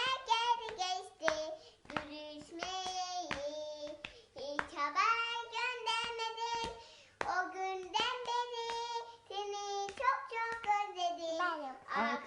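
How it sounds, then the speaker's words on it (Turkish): Children clap their hands in scattered, irregular claps while a voice sings and talks prominently over them, up close and fairly quiet. "Alkışlıyoruz."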